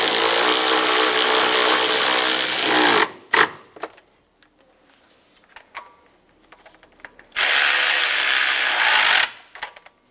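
Hose clamp on the air intake of a 2000-2006 Toyota Tundra 4.7L V8 being snugged down with a power tool, two loud sustained whirring bursts separated by quieter clicks and handling noises, close up.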